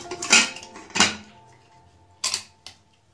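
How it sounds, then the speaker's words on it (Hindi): Several sharp metallic clanks and clatters, two close together, then a pause and two more, as a pressure cooker lid is fitted and closed in place while cooking sambhar. "कुकर का ढक्कन लगाएंगे।"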